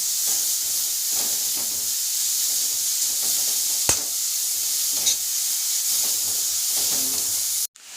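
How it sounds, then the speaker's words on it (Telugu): Carrot halwa being stirred in a pan: a steady, close sizzling hiss with periodic scraping strokes of the spoon, continuous throughout and with no talking. "బాగా కలపెట్టుకోవాలి మాడిపోకుండా"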